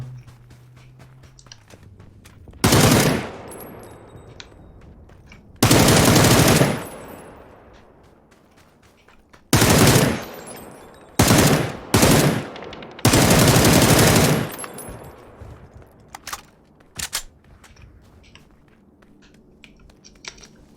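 Bursts of automatic gunfire from the video game PUBG, five or six loud sustained volleys a few seconds apart, with quieter single shots and a low hum between them.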